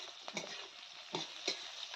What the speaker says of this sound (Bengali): পাঁচফোড়ন কাঁচা লঙ্কা পেঁয়াজ শুকনা মাছ দিয়ে ফোড়ন করে নিচ্ছি